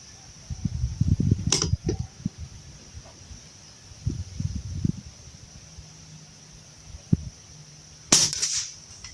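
Two sharp, loud cracks from an air rifle fitted with an NB20 barrel, firing at a 35-yard target in windy conditions. The shots come far apart, with low gusty rumble and faint noise between them.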